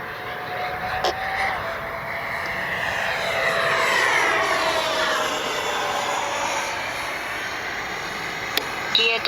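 A twin 64mm EDF MiG-29 radio-controlled model jet passes overhead with a steady ducted-fan whine that rises and falls in pitch, moderately distant, with no talk.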